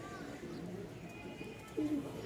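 Pigeons coo softly in a loft at Mirpur-1, Dhaka, with low murmuring calls running under faint background noise and one slightly louder coo near the end.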